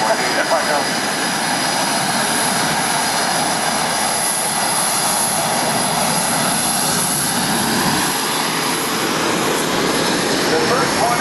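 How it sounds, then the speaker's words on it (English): Navy Boeing F/A-18 Super Hornet jet flying past at an airshow at NAS Oceana, a loud, continuous roaring engine wash that holds steady for the whole stretch. "And it's a single Super Hornet."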